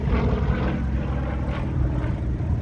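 A light aerobatic aeroplane at an airshow in Headcorn drones overhead, its propeller engine a steady buzzing roar with slight pulsing swells, fairly close and without talk.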